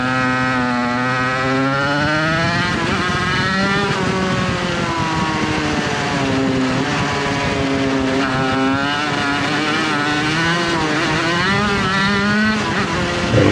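80cc shifter karts in a Northern California club race, heard close: a loud, continuous high-revving engine whine that climbs and drops with each gear change and corner.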